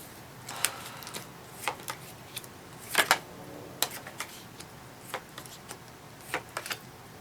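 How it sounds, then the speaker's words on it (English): Tarot cards drawn one by one from a deck, giving soft, irregular snaps and papery clicks close up in a quiet room, with no talking. "So let's draw some more cards"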